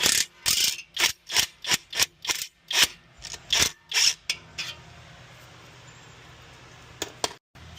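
A ratchet wrench with a 13mm socket working the ball joint nut on a 1977 Porsche 911, a dozen quick close clicking strokes in a steady rhythm, then a quiet pause and two final clicks.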